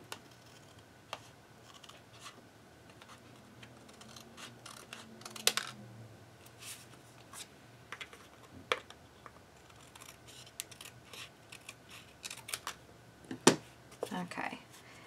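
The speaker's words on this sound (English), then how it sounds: "Flip it over and cut it." Scissors cutting paper for a crafting page, a series of quiet, close, crisp snips and clicks scattered irregularly over a faint background.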